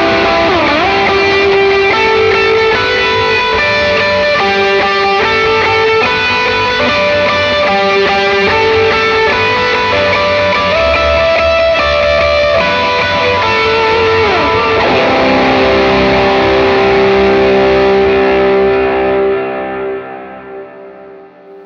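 Electric guitar with distortion, chorus and echo effects playing a worship song, chords moving from rhythm into lead lines, loud and sustained, ending on a held open C that fades out.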